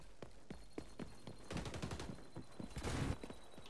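Gunfire in the shooter game XDefiant comes as rapid rhythmic bursts of sharp shots, some single and some in quick strings, heard up close at moderate loudness with a denser flurry midway and near the end.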